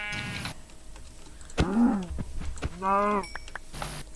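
Two short Minecraft sheep bleats, one wavering and one higher, separated by a pause, with faint clicks and background sounds around them.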